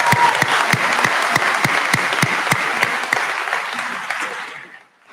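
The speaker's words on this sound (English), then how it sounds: "I think that deserves a round of applause." A high school graduation audience claps enthusiastically, a dense steady wave of applause that fades out at the end.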